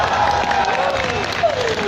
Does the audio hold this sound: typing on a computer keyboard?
no